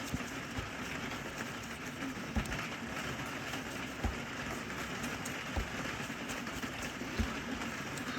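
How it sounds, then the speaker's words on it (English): Heavy rain pouring down outside, a steady dense hiss with occasional louder drips and taps, heard from indoors at low level. "Hope you can all hear me over the rain"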